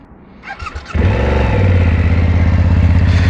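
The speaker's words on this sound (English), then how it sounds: "let's fire her up and see what she sounds like." A 2024 BMW F900GS motorcycle starts up close by: a short starter whir and clatter, then the twin engine catches with a sharp bark and settles into a loud, steady, throbbing idle.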